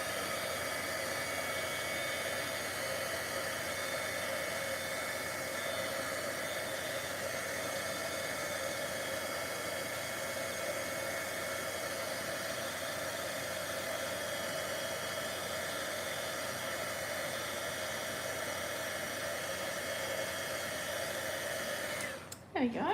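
Heat embossing tool blowing hot air, a steady loud broadband whoosh held unbroken for the whole stretch before cutting off abruptly at the end.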